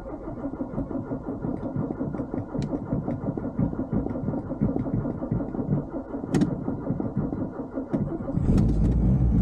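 A Citroën BX car that had sat unused for nearly a year and started with some difficulty: a long, loud churn of the engine cranking, ending in a louder catch as the motor fires, with no talking.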